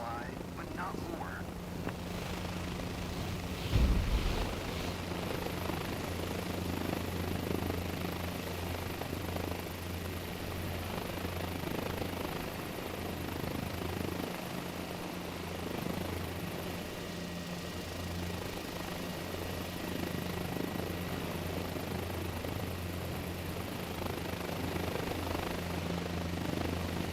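A helicopter rotor and engine in Microsoft Flight Simulator 2024 drone steadily with a constant low thrum throughout, while a person talks over it.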